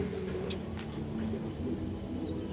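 Female pigeons held in a cage give low, soft cooing calls over a steady background hum of noise. The cooing is close but subdued, with no talking.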